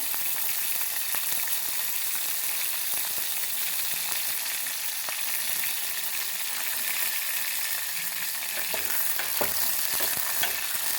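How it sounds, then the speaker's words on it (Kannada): Brinjal (eggplant) frying in oil for a simple oil brinjal curry gives a steady, dense crackling sizzle throughout, close and continuous with faint scraping clicks, and no voices. "ಬದನೆಕಾಯಿನ ಎಣ್ಣೆ ಒಳಗೆ ಫ್ರೈ ಮಾಡ್ತಾಯಿದ್ದೀನಿ"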